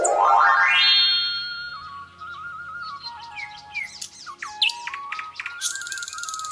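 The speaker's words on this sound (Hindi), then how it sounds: "सुनोयना रंग-बिरंगीन पक्षी देखकर उनके साथ खेलने लग जाती है।" Cartoon birdsong: bright chirps and rising whistled tweets, up close and loud, with playful sliding calls and quick trills and no talking.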